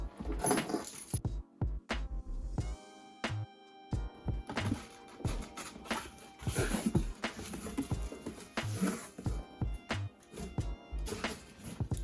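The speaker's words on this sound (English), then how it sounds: "I found my keys." Keys jingle and rattle in repeated metallic bursts during the opening of a sneaker box, with thumps and handling noises mixed in, loud and close throughout.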